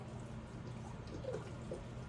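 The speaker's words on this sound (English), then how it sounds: "once you pour in your chicken broth" Chicken broth poured into a pan of cabbage for Southern-style cabbage, a soft steady liquid pour with light splashing, close and fairly quiet, no talk.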